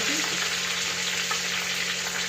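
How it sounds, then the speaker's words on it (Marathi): Whole spices tempering in hot oil for a sprouted moth bean curry, sizzling and frying steadily at close range with a loud, continuous hiss and no talk over it. "आता बघा किती छान फोडणी करते"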